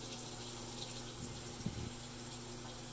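Hot water runs from a tap just after a tankless water heater has fired up, a faint, steady rush of flow with no voices.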